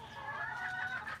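A short, steady burst of chicken clucking from a backyard flock, fairly faint and continuous.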